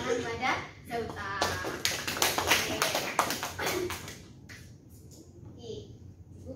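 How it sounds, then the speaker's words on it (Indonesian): A classroom group claps for a student during a chemistry lesson, a burst of light hand taps rising and fading over a few seconds with children's voices mixed in. "kita beri tepuk tangan kepada Zauta"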